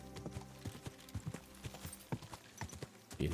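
Horse hooves clip-clop in an uneven trotting rhythm in Kingdom Come Deliverance 2, moderately close over a soft ambient background with no talking.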